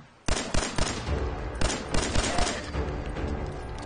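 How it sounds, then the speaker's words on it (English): Gunfire in Fallout 4: loud, close bursts of rapid shots repeat over nearly four seconds, forming a dense, continuous barrage with no talking. "are you just going to stand here watching me shoot?"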